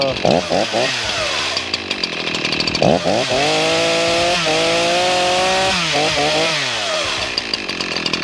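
An Echo CS-4910 chainsaw engine revs and holds a high, steady whine at fast idle, surging up and down several times, loud and close.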